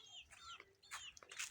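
Chickens resting outdoors give soft, faint clucks and short calls in a few quick bursts, heard from close by at low volume with no talking.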